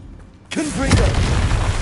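A Confringo blasting spell from Hogwarts Legacy bursts after a brief quiet, a single loud booming explosion that swells and rumbles on with a low, heavy tail.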